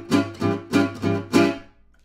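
Gypsy jazz chord on acoustic guitar with the fifth fretted by the pinky, strummed five times in a swinging rhythm, bright and close, each stroke ringing briefly before the last fades out.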